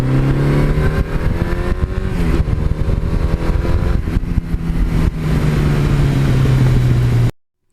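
A Suzuki GS1100E motorcycle engine winds up hard, loud and close, its pitch climbing through repeated rises before cutting off abruptly at the end.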